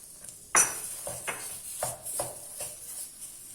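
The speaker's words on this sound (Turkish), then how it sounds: "Ve salçayı da karıştırarak kavuruyoruz." Pepper and tomato paste stirred and fried in a pot for arabaşı soup, heard as a loud spoon clank followed by a series of softer scraping strokes against the metal with a faint sizzle underneath.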